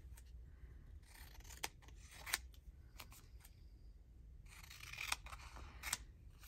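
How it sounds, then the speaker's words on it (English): Scissors handled during a paper crafting session, with faint snips, rubs and brief rustling clicks scattered across a quiet room tone. "Yes, scissors. Where art thee?"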